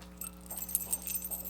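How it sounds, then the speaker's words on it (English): Car keys jangle in a quiet room, a light metallic rattle in short irregular bursts from close by. "Car keys."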